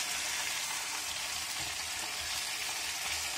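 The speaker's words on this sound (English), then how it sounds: "The sound of food frying." Steady, bright sizzling of food frying in a pan, a constant crackling hiss close by with no talking.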